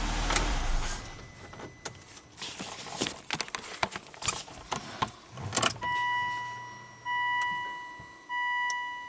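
Volvo XC90 engine cranking with a long starter whir and irregular bursts, followed by steady warning chimes repeating alone near the end.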